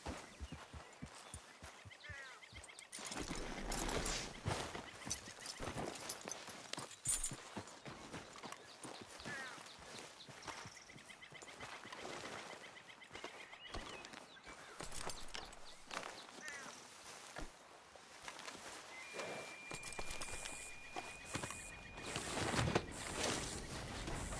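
Horse hooves clip-clop in Red Dead Redemption 2, a steady rhythmic plodding of a walking horse over about twenty seconds, faint and mixed with ambient game sounds.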